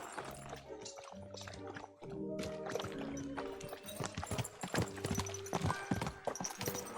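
Horse hooves clip-clop steadily in Kingdom Come: Deliverance II, a rhythmic trot running the whole way under music and occasional voices.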